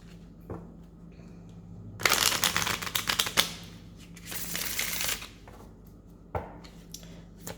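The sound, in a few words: shuffling a deck of oracle cards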